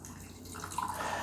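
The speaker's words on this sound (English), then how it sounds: "let's go ahead and pour this" Water is poured for gyokuro green tea, a soft, steady trickle that grows slightly brighter and fuller toward the end, quiet and close, with no talking.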